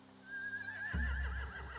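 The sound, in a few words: horses neighing in the video game The Walking Dead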